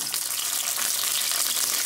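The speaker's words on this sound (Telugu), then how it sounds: "ఇప్పుడు ఇదే ఆయిల్లో నేను ఒక 10 పచ్చిమిరపకాయలు ఫ్రై చేసుకుంటున్నాను అన్నమాట." About ten green chilies fry in hot oil on low flame for a Karnataka-style chicken donne biryani, giving a steady, close, hissing sizzle with no talk.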